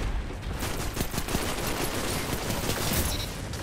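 Rapid, sustained automatic fire from the Galahad's Right Hand high-impact auto rifle in Destiny 2, a dense rattle of shots pouring out continuously and loudly with no talking.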